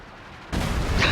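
Artillery fire in a real-time strategy game (Reign 2): a quiet stretch, then a sudden loud boom at mid-clip that swells into sustained rumbling blasts.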